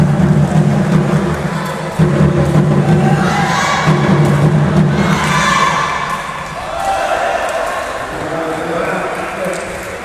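Nonthaburi youth sepak takraw supporters cheer and chant together in a loud, rhythmic crowd roar inside a gym, with shouting rising and falling across the whole stretch.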